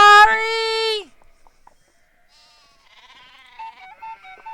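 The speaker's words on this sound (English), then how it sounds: "that looks like a happy sheep to me" A video game sheep gives one loud, sustained bleat up close, followed by quiet then softer, thinner game sounds and small tonal blips.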